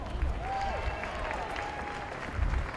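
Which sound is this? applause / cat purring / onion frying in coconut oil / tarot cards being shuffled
applause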